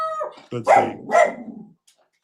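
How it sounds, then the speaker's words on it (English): A dog barks twice in quick succession, sharp and fairly close, right after a brief spoken phrase, then silence follows. "Okay, that was a dog."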